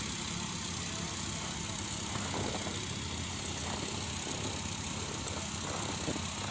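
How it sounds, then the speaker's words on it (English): Vintage snowmobiles passing by outdoors, their engines a steady, loud droning rumble throughout with no break or clear approach and fade. "I see sleds coming here, and I think they'll be riding by me here momentarily"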